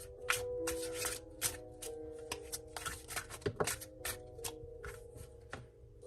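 A deck of tarot cards is riffled and shuffled by hand in quick, irregular bursts of crisp flicks and soft taps, close and fairly quiet over a faint steady background hum.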